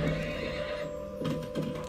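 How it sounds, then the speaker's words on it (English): A horse neighs loudly in a drawn-out whinny, with a couple of brief thumping hoof-like knocks near the end and no talking. "That's what a horse sounds like."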